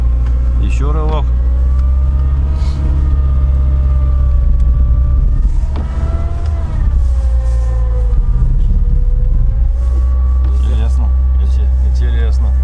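A Niva or UAZ Patriot engine drones and revs while straining through sticky salt-marsh mud in the rain, with voices talking over the steady engine noise.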